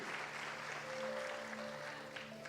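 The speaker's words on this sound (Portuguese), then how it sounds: "Você pode aplaudir ao Senhor?" Church congregation applauding during a Portuguese-language sermon, a steady wash of clapping at moderate distance with faint voices and sustained tones underneath.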